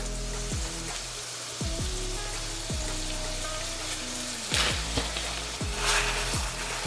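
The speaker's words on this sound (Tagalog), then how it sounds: "Kapag nagisa nyo na maigi, ilagay na natin tong ground beef." Ground beef being sautéed with tomato for Pinoy-style spaghetti, giving a steady loud sizzle and crackle close by, broken by a few brief stirring scrapes, with no talking.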